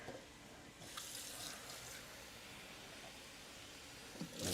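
Water streams steadily from a kitchen tap into a measuring cup while black beans are prepared for rice, a continuous hissing flow of moderate level that swells briefly near the end.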